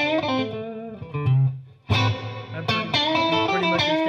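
Electric guitar through a Fender Deluxe amp with plate reverb, playing sustained chords and single notes with a lingering, shimmering tail. A brief pause comes before the playing resumes.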